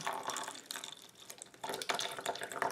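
Water poured from a cut-open squishy toy, a pudding or flan stress ball, into a small cup, making a close, soft liquid splashing and dribbling with uneven bursts and no talk.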